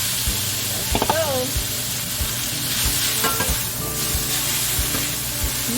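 Lo mein noodles with garlic stir-fried in a pan, a steady close sizzle broken by scraping stirs and spatula knocks, with a few brief faint voice-like sounds layered over the frying.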